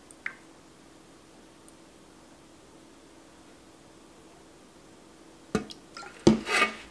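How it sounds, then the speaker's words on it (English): Firestarter mixture stirred in a bowl, a brief burst of scraping and rubbing near the end after a mostly quiet stretch with a single early tap. "Mix it around."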